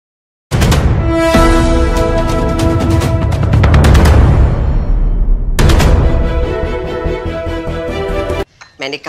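Loud gunfire in urban street fighting in the Israel–Palestine conflict: a dense burst of shots rolls into a long reverberant roar, then a second heavy volley hits before cutting off abruptly.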